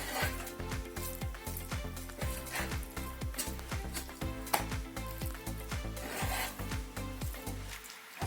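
A knife saws through meat on a board as it is cut into steaks about two centimetres thick, a quick run of rhythmic rasping strokes, close and steady, with no talk.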